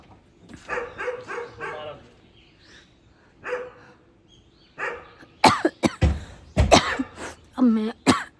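A woman coughs in a burst of several harsh, close coughs near the end, after stretches of quieter talking and throat sounds, with a dog-like bark mixed in among the coughing.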